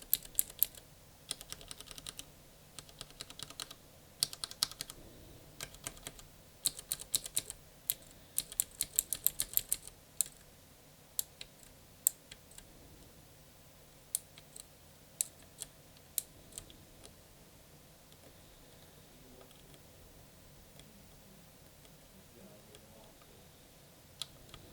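A mechanical keyboard switch tester holding blue, brown, black, red, white and green switches gives bursts of crisp key clicks and clacks, dense at first, then thinning into sparse, isolated presses with quiet gaps between.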